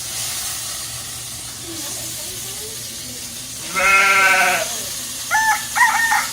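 Onions hit a hot pan for chicken lemon caper pasta and sizzle in a steady, even hiss, with brief voiced sounds breaking in near the end.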